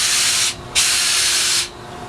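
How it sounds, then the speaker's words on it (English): A spray gun hisses out green-tinted wood finish onto a sample board while an oak staircase is refinished. It gives two long, steady, close bursts of broadband hiss separated by a brief pause. "So I'm going to set up to spray this sample."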